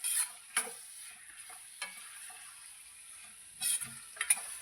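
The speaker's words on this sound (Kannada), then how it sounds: "ಹುಳ್ಳಿಕಾಯಿ, ಕ್ಯಾರೆಟ್ ಹಚ್ಕೊಂಡಿದ್ದೀವಲ್ಲ ಅದು ಎಣ್ಣೆಯಲ್ಲೇ ಫ್ರೈ ಆಗಿಬಿಡ್ತಿದೆ." Ridge gourd and carrot pieces frying in oil with ginger, garlic and green chilli, a faint steady sizzle broken by a few louder stirring scrapes and clicks of a utensil in the pan.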